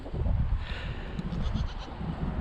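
Little goats bleating outdoors in a few short, fairly faint calls over steady wind rumble on the microphone.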